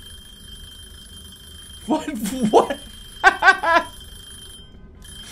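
A phone or alarm rings in a video game as a quick cluster of bright, shrill bursts, and someone shouts loudly just before it.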